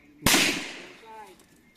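A gun fires a single sharp shot at a firing range, a loud close crack with a decaying echo tail, and brief faint voice sounds after it.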